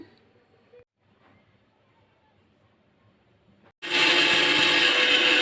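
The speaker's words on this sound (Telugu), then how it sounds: "మిక్సీ పడుతున్నాను" After a few seconds of quiet, a mixer grinder roars to life, loud and steady, its motor whirring continuously until the end as it grinds jaggery to powder.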